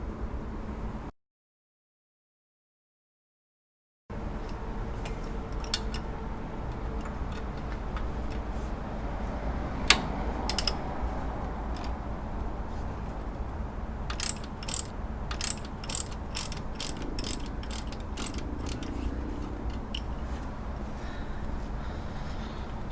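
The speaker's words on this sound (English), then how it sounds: "Next we're going to loosen the locking bolt," Ratchet loosening the alternator locking bolt on a Subaru Impreza, a steady run of close, sharp clicks in quick rhythmic strokes after a brief silent gap, with a louder clank partway through and no talking.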